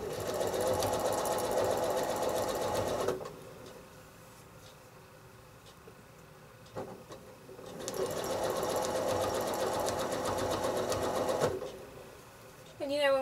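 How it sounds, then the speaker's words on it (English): A sewing machine travel stitching on a quilt block runs in two steady, fast-chattering stretches, separated by a quieter pause with faint handling noise, close and fairly loud. "now I'm doing some travel stitching here, very slowly"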